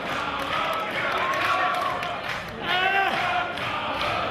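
A wrestling crowd roars steadily at an MCW Championship match between Carlo Cannon and Mike Petersen, a loud, dense wash of voices that swells and dips, with a commentator talking over it.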